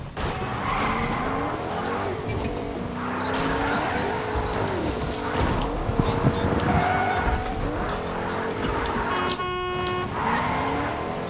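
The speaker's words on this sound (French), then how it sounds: "Petit drift pour la famille" Tires squeal and skid as a car drifts in a video game, the engine revving and droning throughout, with a brief horn-like tone near the end; the sound is loud and continuous.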